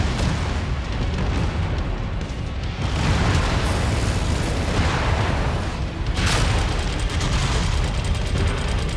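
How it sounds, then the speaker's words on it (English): Missile explosions rumble nonstop during a battle mech fight in MechWarrior 5 Mercenaries, a loud, dense run of booms and blasts that barely lets up. "Something's shooting missiles in the back over there, too."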